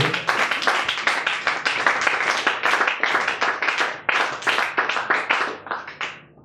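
A church congregation applauding its singers: a dense burst of many hands clapping, close and loud, with uneven rhythmic pulses sustained for several seconds before tapering off.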